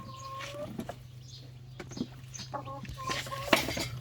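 Silkie chickens cluck softly and repeatedly, with brief calls scattered over a steady low hum of background noise.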